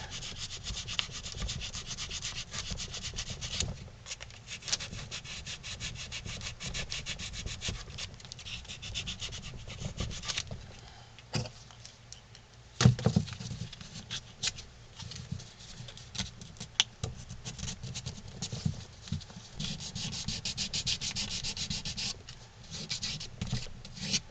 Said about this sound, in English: I'm just going to sand this down.